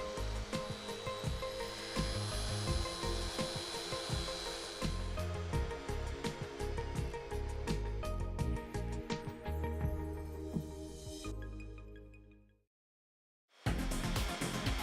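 A Fein core drilling machine runs at reduced speed with a steady mechanical whir and grinding, stops abruptly into a brief silence, then starts up again.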